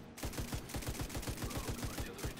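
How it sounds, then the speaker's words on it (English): Rapid automatic gunfire in The Division 2 rattles out as one continuous burst of evenly spaced, punchy shots, close and steady for a couple of seconds. "Okay, now I'll shoot you."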